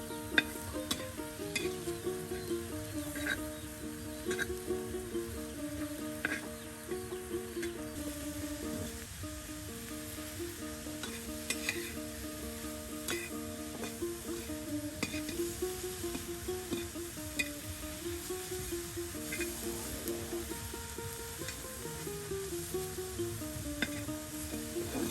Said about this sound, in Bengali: দাদি কিন্তু দেখুন প্রথমে তেল ভেজে নেওয়ার পর পাট শাক দিয়ে দিল